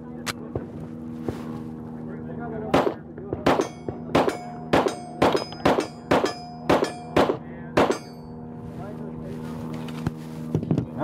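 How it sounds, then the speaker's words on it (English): Roughly ten sharp, evenly paced gunshots crack from a Hudson H9 steel-frame 9mm pistol at an outdoor range, loud and close over a constant background hum, with other shots faintly before and after. "right now we're going to shoot the steel frame first, then we're going to shoot the aluminum"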